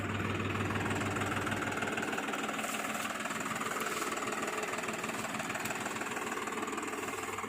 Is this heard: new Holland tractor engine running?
yes